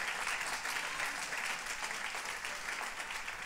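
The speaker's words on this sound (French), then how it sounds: "Applaudis l'Éternel, applaudis sérieusement." A church congregation claps throughout a worship service, a dense, continuous patter of many hands at a steady moderate level, with no voices standing out.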